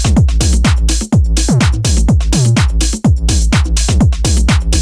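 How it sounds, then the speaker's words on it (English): Drums and bass line together in a chill remix: punchy kicks and snappy snares over a deep rolling bass, in a steady, dense loop. "So all of the drums and the bass line together sound like this."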